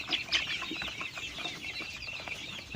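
Five-week-old Hisex Brown pullets keep up a steady, crowded clucking chorus at evening, with a couple of sharper calls early on rising above the constant flock murmur.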